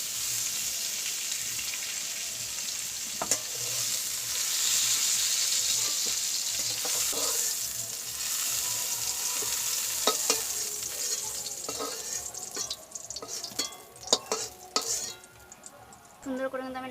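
Pointed gourd sizzles steadily in hot oil in a kadai, with a broad continuous frying hiss throughout and intermittent scraping clinks of a spatula stirring against the pan, growing sharper and more frequent toward the end; no one speaks.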